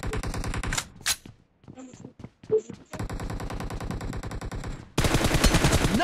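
M416 rifle fire in the mobile shooter BGMI rattles out in rapid automatic bursts, loud and close, broken by a brief gap with faint in-game sounds before a denser, harsher volley takes over.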